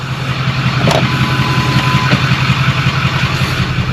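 A vehicle engine idling steadily up close, a loud low rumble with an even pulsing rhythm and no change in pace, accompanied by a brief faint whine partway through.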